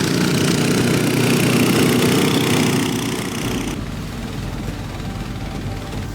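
A boat's outboard engine, mounted hanging off the stern, runs loud and steady up close on a river, its drone dropping in pitch partway through.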